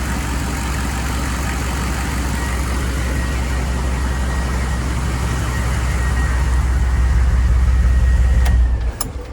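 A 6.5L turbo diesel pickup truck with a freshly replaced remanufactured injection pump idling smoothly, a loud, steady low rumble close by that cuts off near the end.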